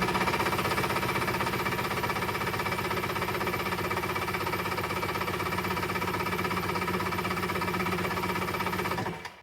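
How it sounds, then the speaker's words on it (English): A powersports engine cranks continuously on a lithium battery, its starter chugging in a fast, even rhythm for about nine seconds before cutting off abruptly. "I want to see how many cranks I can get out of this just continuously trying to crank it"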